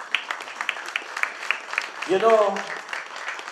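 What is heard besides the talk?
applause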